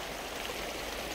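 Water in a stream rushes steadily outdoors, a short and even wash of flowing sound with no voices.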